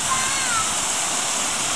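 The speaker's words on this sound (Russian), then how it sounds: "вода крутит это колесо, вода крутит колесо, и колесо крутит жернова" Water rushes over the wheel of a watermill that drives millstones, a steady loud splashing roar close by with no pauses.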